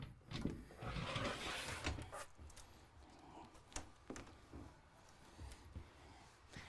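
A sliding bedroom door in a 2021 Coachmen Catalina Legacy Edition 343 BHTS travel trailer rolls shut, a close scraping slide followed by a few soft knocks and rattles in a quiet interior.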